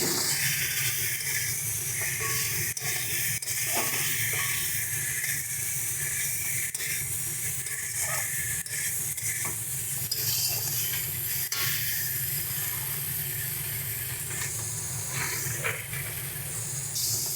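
Chopped tomatoes and spices fry in a pan for a Bengali pabda fish curry with bori, giving a steady, loud hiss of sizzling with occasional soft clinks of a utensil throughout.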